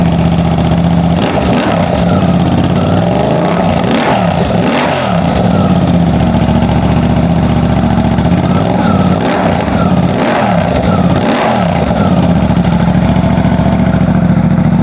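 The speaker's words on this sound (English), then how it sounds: "It's revving really nice and strong." A Suzuki GSX-8R motorcycle with a full aftermarket exhaust idles with a rough, throaty rumble, broken by two clusters of sharp revs that rise and fall, loud and close.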